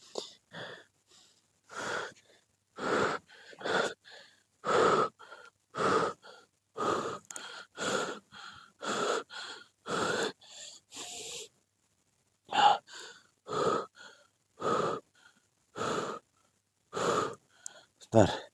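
A man breathes heavily during a spiritual ritual against black magic, with repeated loud, rhythmic gasping inhalations and exhalations in steady bursts separated by short pauses, close to the listener.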